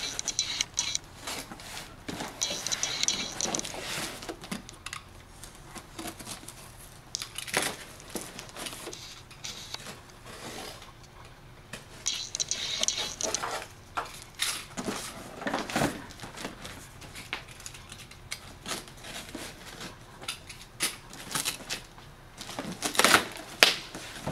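Blade cutting apart two packages taped together: a long run of scraping, slicing and crinkling tape and cardboard, coming in irregular bursts and small clicks at close range, with no talk.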